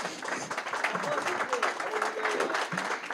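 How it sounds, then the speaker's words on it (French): A crowd claps in steady applause at a real estate awards ceremony, a dense patter of hands with murmuring voices mixed in throughout. "Donc je vous invite à applaudir José."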